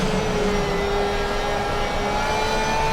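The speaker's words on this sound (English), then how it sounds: "The downshifts sound amazing." GT race car engine in Assetto Corsa Competizione, a 2023 GT World Challenge car, holding a loud, steady, sustained tone with no audible break or blip of a downshift, and no talk over it.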